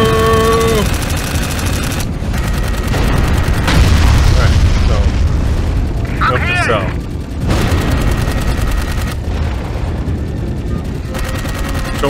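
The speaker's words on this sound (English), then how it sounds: "Their mounted chain guns seem to be more powerful than my handheld machine gun." Mounted chain guns and explosions in the Dark Void video game, a dense, continuous barrage of rapid gunfire and booming blasts layered under loud game noise with a voice and swooping tones partway through.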